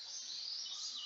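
Birds chirping in the early morning after rain near a swollen mountain stream, a thin steady twittering held at a faint distance with no voices.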